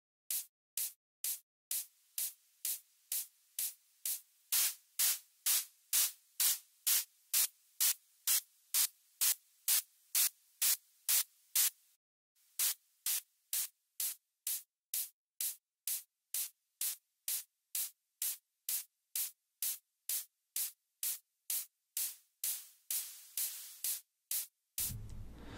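White noise layered onto a hi-hat in a music production session, heard as a steady run of short, bright noisy hits in a regular rhythm with a brief gap midway, loud and alone with no talk.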